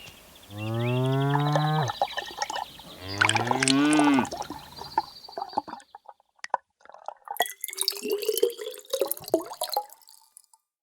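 A cartoon cow is milked into a pot: two drawn-out tonal calls come first, then faint, scattered drips and splashes with a rising squeak, all fairly quiet.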